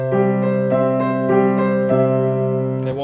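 Piano warm-up exercise with the left hand playing slow sustained notes beneath a quicker right-hand line, steady rhythmic note attacks ringing clearly and alone at moderate loudness.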